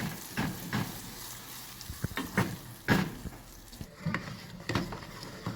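Caramel is stirred in a pan, with irregular scraping strokes and soft bubbling sizzle, heard close up with no voices.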